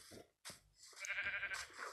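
A Minecraft sheep gives a short, near, clearly voiced bleat, with a brief game sound just before it.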